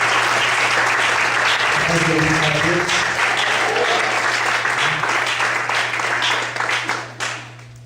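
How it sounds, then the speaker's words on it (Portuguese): Church congregation applauding during a service, a loud sustained wave of clapping with a few voices rising through it, then fading out near the end. "Será que você pode aplaudir o Senhor?"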